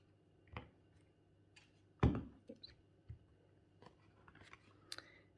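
Scissors cutting through card for a handmade Easter card, a few sparse snips and clicks with one sharper cut near the middle, quiet and close with no talk.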